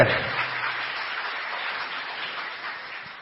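Applause from a church congregation during a Portuguese-language sermon, a dense, steady wash of clapping that holds evenly throughout and fades slightly toward the end.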